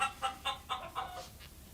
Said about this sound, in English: This is a hen, one hen after laying eggs.